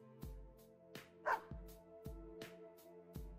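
A white dog in the fighting game Persona 4 Arena barks in a steady series of about eight sharp, evenly spaced barks, close and clear with no talk.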